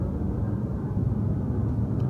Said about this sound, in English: That's a really loud airplane.